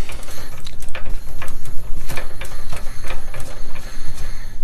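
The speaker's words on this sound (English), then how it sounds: "So I really bought this compressor because I planned on having two airbrushes running at once" Small airbrush air compressor running steadily up close, a continuous mechanical drone with rapid pulsing and clicking, fairly loud and alone without talk.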